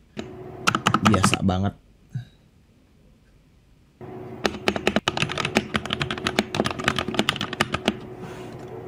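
A modded mechanical keyboard being typed on in rapid clattering bursts, close and crisp, with a pause in the middle where a voice speaks briefly before the fast keystrokes resume.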